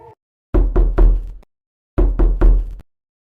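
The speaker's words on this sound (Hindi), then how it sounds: "तो अचानक दरवाजे पर जोर से चोट पड़ी।" Loud, heavy knocking on a door comes in two bursts of three hard thuds each, close and booming, with a short silence between the groups.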